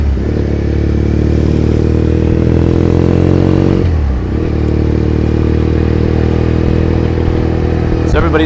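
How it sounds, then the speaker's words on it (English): A motorcycle rides through Tokyo, its exhaust a loud steady drone heard up close, briefly dipping as the rider shifts near the middle before settling back to a constant hum. "Got plenty of exhaust sound and voice."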